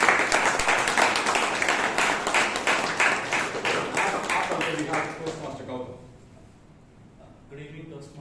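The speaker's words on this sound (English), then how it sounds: "Round of applause." Audience applause fills a Toastmasters club meeting in Bangalore, a dense roomful of clapping that fades out after about six seconds, leaving a quiet room as a voice begins speaking.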